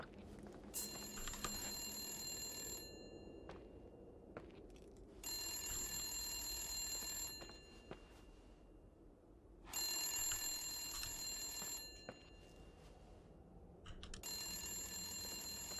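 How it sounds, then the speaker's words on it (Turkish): A telephone rings in bursts inside the abandoned hotel of the game The Suicide of Rachel Foster, with three long electronic trills separated by pauses and a shorter fourth starting at the end, clear over a quiet, faintly humming room. "Telefon çalıyor."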